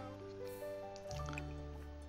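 Watering a plant in The Sims 4 video game: a soft liquid pouring and dripping sound runs steadily over a sustained musical game backdrop, moderately quiet throughout.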